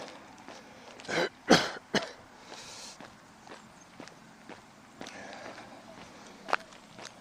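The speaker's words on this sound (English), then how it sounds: "I can pause when I need to clear my throat" A person clears their throat a couple of times, close and fairly loud, between quiet footsteps in an outdoor setting with faint ambient noise and no speech.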